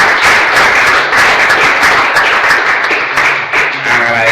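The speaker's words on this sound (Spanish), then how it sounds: "acabamos con un fuerte aplauso para nuestro amigo el rector Leal" Applause from an audience at an education talk honoring a university rector, a dense steady wash of clapping filling the clip from start to finish, loud and continuous.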